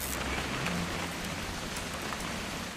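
Steady rain falling in the game What Remains of Edith Finch, a dense, even patter of drops with faint scattered splashes, constant and fairly close, no voices.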